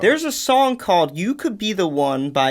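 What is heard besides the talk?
None of the usual background noises is heard.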